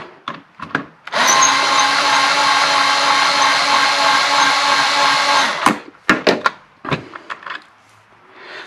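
A small, slowish Ryobi power tool trimming brass cartridge cases spins up to a steady, loud whirring hum for about four seconds, then stops, followed by several sharp clicks and handling knocks nearby.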